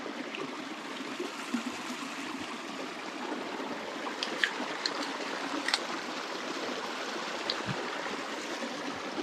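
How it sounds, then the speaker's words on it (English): Water of a millstream in Chichester flowing steadily, a soft, continuous trickling rush heard close by with occasional brighter splashes and no voices. "Flowing water."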